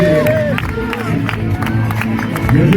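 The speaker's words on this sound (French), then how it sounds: "on applaudit les invités." A crowd at the Grand Raid 2022 Trail de Bourbon race claps and cheers with whoops, a continuous lively burst of applause with voices talking over it.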